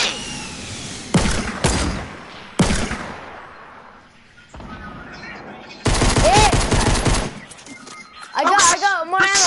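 Video game gunfire bursts out in sharp broadband volleys, a couple of short blasts early on and then a longer sustained rattle later, with excited talk from a player in between and over the shooting.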